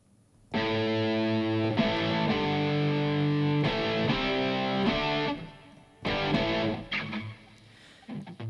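Layered electric guitar sample with reverb, sitting in the mid-low range: sustained distorted chords ring out for about five seconds, pause briefly, then return in shorter strummed bursts, loud and alone with no talking.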